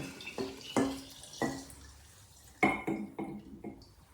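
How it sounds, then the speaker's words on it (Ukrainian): Alcohol solution poured over raspberries in a glass jar, coming as a few separate splashy pours with drips and liquid gurgles between them, close and fairly quiet, with no talking. "Заливаємо спиртовим розчином наші ягоди."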